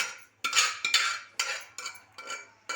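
A spoon mixes mashed lentils into radish sambar in a metal pot, giving a series of bright clinks and scrapes in irregular bursts, close and fairly quiet with no talking.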